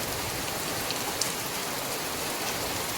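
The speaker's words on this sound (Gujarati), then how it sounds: "આજ છે બીજો દિવસ વરસાદનો અને કાલે પણ બહુ આવ્યો" Heavy rain falls steadily on surfaces outdoors on the second day of a downpour, a dense, continuous hiss with no voices over it.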